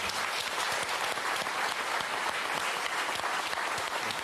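Audience applause at a televised French interview event, a dense, steady wash of clapping that holds at an even loudness for the whole span with no voices over it.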